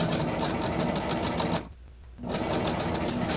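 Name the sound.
sewing machine stitching along a seam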